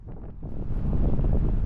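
Loud wind buffets the microphone of a cyclist riding through coastal dunes in Holland, a low roaring rumble that builds and stays strong, with no talking.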